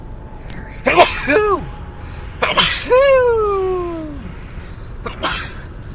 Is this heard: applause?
no